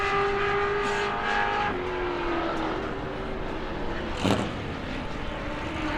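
Pro truck engine wound up hard during qualifying laps at New Smyrna, a loud, sustained roar with a steady high whine and a brief surge of passing noise near the end.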